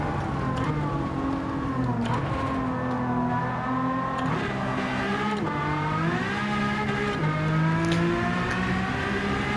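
A race car in Gran Turismo 7 revs and accelerates, its engine note climbing and shifting through gears in a continuous loud whine that rises and dips repeatedly over the whole stretch.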